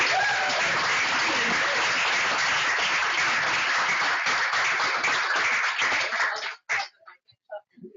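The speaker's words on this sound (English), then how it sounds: "Can we get a huge round of applause for Alexa?" A crowd applauds loudly in a dense, sustained burst that fades into a few scattered claps near the end.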